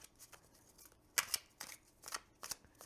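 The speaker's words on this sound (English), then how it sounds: "for hand to hand, I mean overhand shuffling" Small pocket-sized tarot cards being overhand shuffled by hand, giving a few soft, brief papery bursts in a quiet room with no talk.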